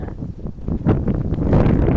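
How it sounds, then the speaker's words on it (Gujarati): Strong wind blows across an open farm field planted with chilli seedlings, producing a loud, steady rumbling gust with buffeting on the microphone that continues alone without any talk. "આપણે અત્યારે જો મેન પ્રશ્ન હોય ને તો પવનનો છે"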